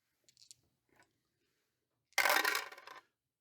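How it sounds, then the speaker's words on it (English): Three dice rolled during a Marvel Zombies board game: a few faint ticks, then one sharp, close rattling clatter lasting under a second before it quickly dies away, with no talk. "So he's rolling 3 dice"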